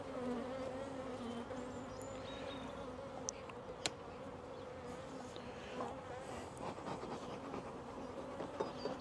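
Honeybees buzz around an opened Buckfast hive, a steady, soft drone with fainter individual passes and a few small clicks and taps, heard up close for nine seconds with no one speaking.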